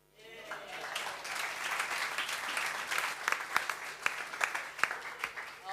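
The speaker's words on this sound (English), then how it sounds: "A big round of applause for our poets this evening." Audience applauding poets at an evening science haiku and limerick reading, the clapping swelling from nothing into a sustained round, with sharp individual claps standing out near the end.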